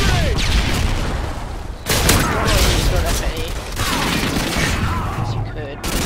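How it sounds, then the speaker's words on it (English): Stun grenade and gunfire in a Call of Duty Modern Warfare 2 multiplayer team deathmatch on the Invasion map: continuous loud rattling gunfire and bangs with a sharp burst partway through, under in-game radio voices and someone talking. "Tossing stun grenade!"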